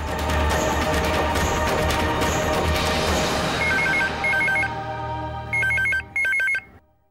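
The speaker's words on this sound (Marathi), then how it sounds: "अगं वसुरा फोन घ्या ना, फोन वाजतोय" A household telephone rings in repeated short bursts near the end, following a busy stretch of background sound.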